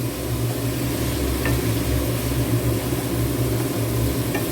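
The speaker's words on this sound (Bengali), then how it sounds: "শুধু এই দিয়েই আজকে এই ডিমটা কষিয়ে নেবো, ভাজা ফ্রাই করে নেবো" Eggs frying with onion in hot oil, a steady close sizzle with crackling spatters and a few stirring scrapes, continuous and alone.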